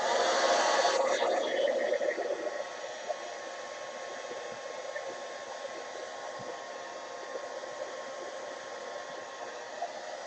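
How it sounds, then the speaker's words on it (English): A handheld heat gun blows steadily over stencil paint on an art journal page, a loud broadband hiss that starts strong and settles into a slightly quieter continuous whoosh with no talking. "A little bit of a heat gun."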